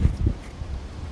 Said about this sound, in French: il y a un peu de vent, j'espère que ça va pas trop foutre le bordel